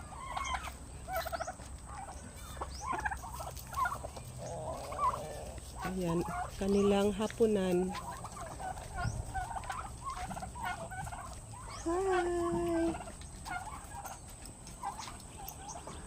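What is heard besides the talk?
turkeys gobbling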